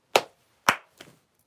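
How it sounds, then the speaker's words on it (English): Two sharp, loud hand claps close by in a quiet office, followed by a fainter third smack, each with a brief bright decay. "That was a loud clap."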